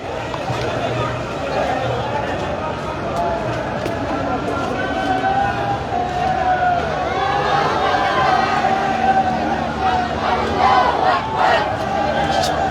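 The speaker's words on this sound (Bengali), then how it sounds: "তারা নারায়ে তাকবীর আল্লাহু আকবার স্লোগানে মুখরিত করে রয়েছে সেই সড়ক" Rally crowd on a city road chanting Naraye Takbir Allahu Akbar slogans, a loud, dense roar of many voices with rising shouted surges and traffic noise mixed in.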